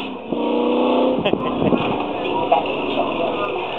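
An AC Cobra lightweight replica sports car engine, built in the 1980s and long unused, rumbles and revs in short bursts, loud and close, with someone talking over it.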